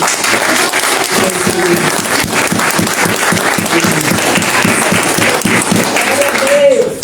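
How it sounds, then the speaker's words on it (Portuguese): A church congregation applauds together in a loud, steady burst of clapping that fills the room, with a voice speaking over it near the end. "E eu queria pedir à igreja que desse uma salva de palmas para este homem."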